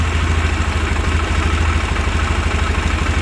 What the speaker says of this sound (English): Until it idles a little more reasonably.